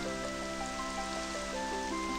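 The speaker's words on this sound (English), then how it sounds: "apparently Kirby wished for rain, but we don't want rain" Steady rain hisses softly in the Super Smash Bros RPG game after Kirby's wish at a wishing well, a continuous wash under tonal game music with no talking.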